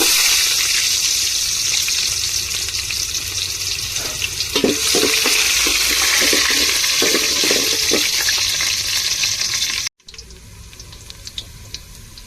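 Steady loud sizzling of onions and mustard seeds frying in hot oil, with occasional crackles and pops, cutting off abruptly near the end to quieter spattering.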